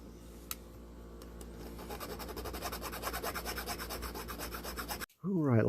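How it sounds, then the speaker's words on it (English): A fuel tank on an '80 GMC truck is polished by hand, with a rapid, even back-and-forth rubbing that builds after two seconds and runs close and steady before stopping, followed by a brief voice. "let me get that polished up"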